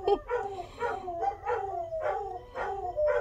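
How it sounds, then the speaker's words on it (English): Dogs howl outside in a series of rising and falling wavering howls, several voices overlapping in rhythmic pulses at a moderate distance, fairly clear against a quiet background. "They're gonna start howling now, you guys."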